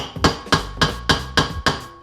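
A hammer strikes a metal plate to make a center-punch divot before drilling, for a homemade motorcycle plate mount on a CBR 600; six sharp, evenly spaced close impacts.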